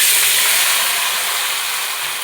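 Chopped tomatoes, about 1.5 kg, hitting a hot pan for tomato thokku give a steady, loud broadband sizzle and hiss that holds for about two seconds, close up with no talking.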